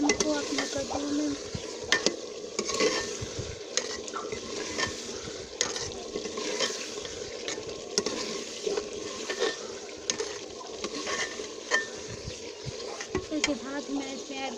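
A spoon stirs chicken into pumpkin in a cooking pot, giving repeated scraping and clinking strokes over a constant sizzle of frying.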